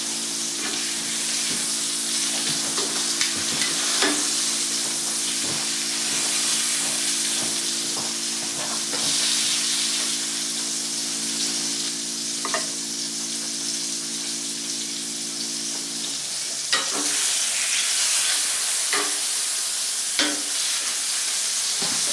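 Steaks for beef Wellington searing and browning in a pan, a loud, steady hiss-sizzle with scattered pops and occasional clinks, and a low hum that drops away partway through.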